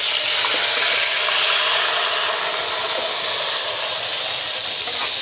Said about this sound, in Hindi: अब इसमें मैं पेस्ट डालूंगी हरी मिर्चें और प्याज का।